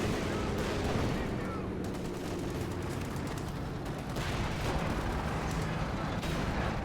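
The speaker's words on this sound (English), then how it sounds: "Oh, we got rockets!" Rocket artillery fire in the Company of Heroes 2 strategy game rumbles as a dense, continuous barrage of booming explosions and crackling gunfire, with voices talking over the battle.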